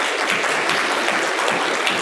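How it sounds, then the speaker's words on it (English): An audience at an evening artist talk gives a brief, loud burst of dense clapping for the lecture, close and continuous, with no talking. "a round of applause for tonight's lecture"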